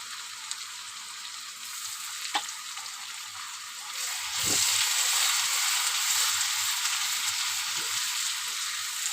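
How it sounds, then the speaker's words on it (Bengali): Spices with turmeric and salt sizzling in a pan over fried potatoes, a steady close hiss that swells louder midway, with a few soft stirring clatters and no voices. "দিয়ে মশলাটাকে ভালো করে কষিয়ে নেব"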